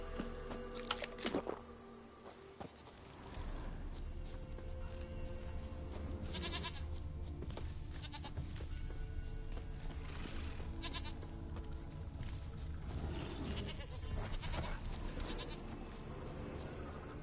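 Goats in The Witcher 3 video game bleat repeatedly at moderate volume over continuous game ambience, with several distinct cries spread through the stretch.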